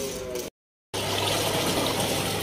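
Water pours and splashes steadily into a container for washing school uniforms with detergent powder, a dense continuous rush that cuts out briefly, then returns louder and close.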